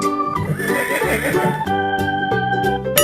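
A domestic horse neighs loudly and close by, in a long wavering whinny with a sharp burst at the very end.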